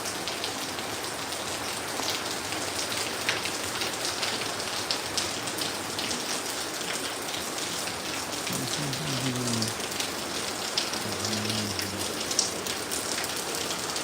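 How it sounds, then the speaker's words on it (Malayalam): Light monsoon rain and wind in Kozhikode make a constant close hiss of drops on surfaces, with a few faint low tonal sounds in the background and no talking. "ചെറിയ രീതിയിലുള്ള കാറ്റും മഴയും"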